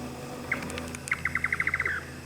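A bird at Pench Tiger Reserve calls from the ground: a couple of scattered notes, then a rapid run of about ten clear, evenly spaced chirps that speed up slightly, heard plainly against quiet forest ambience.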